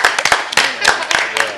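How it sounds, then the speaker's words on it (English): A short burst of loud, close applause at a Decision 2012 event, with a few people clapping in quick, uneven claps for a second or two. "let's give Peter a round of applause"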